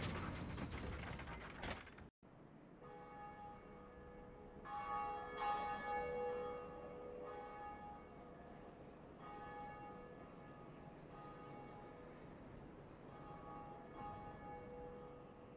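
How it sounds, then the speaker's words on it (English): A Bell of Awakening being pulled in Dark Souls: mechanical ratcheting and gear clatter, then a bell's sustained ringing tones that swell and linger, repeating in a slow pattern, with no talk. "we made it to the first Bell of Awakening. Let's pull the bell and awaken it."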